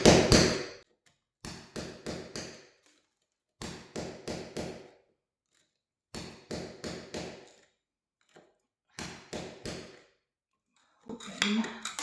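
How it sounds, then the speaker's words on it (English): Small chisel tapped in short bursts of three to five sharp, close strikes separated by silent pauses, the rhythm repeating steadily across the span, with a rougher scrape of the tool at the end. "I'm going to start with just a small chisel"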